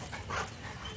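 A Rottweiler socializing with another dog for the first time gives a short, soft whimper, a brief high whine over faint background noise.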